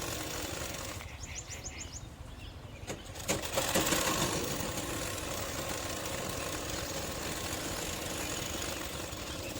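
A sewing machine stitches a folded sleeve, starting with a light rapid whir, then a louder steady mechanical hum that runs on evenly throughout.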